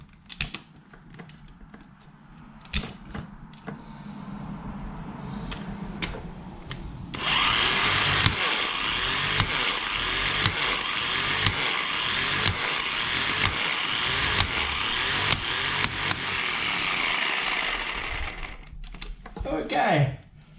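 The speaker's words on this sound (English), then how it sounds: "I've got the impact wrench, so let's try and undo this thing." An impact wrench rattles and whirs loudly for about ten seconds as it undoes a large motorcycle flywheel bolt, preceded by clinks and someone speaking, and followed by a few knocks.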